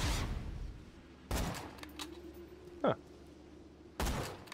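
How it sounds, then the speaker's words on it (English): Cobra rifle shots from Borderlands 2 crack out as three separate sharp bursts spread across a few seconds, each decaying quickly over a low game hum, with a short ricochet-like whine and a brief vocal grunt in between. "I didn't realize you ricochet the shots with the Cobra"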